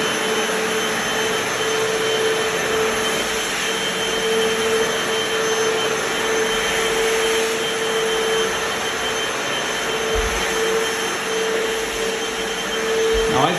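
A Hoover FloorMate Deluxe wet floor cleaner runs in wash mode with a loud, steady motor whine and airy suction roar, continuous and close throughout, no speech over it.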